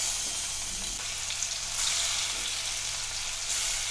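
Prawns fry in hot coconut oil in a pan, giving a steady close crackling sizzle with slight surges. No voices are heard.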